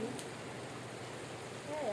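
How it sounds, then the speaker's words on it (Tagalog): Steady, soft rain hisses continuously at an eco park, a low even wash with a voice murmuring faintly in the background. "Umuulan."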